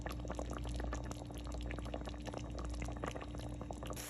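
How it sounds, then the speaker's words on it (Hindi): Water boiling in a pot on the stove before rice is added, a steady close bubbling and hissing rush that carries on unbroken with no voices. "इसको 5 मिनट के लिए उबलने देते हैं"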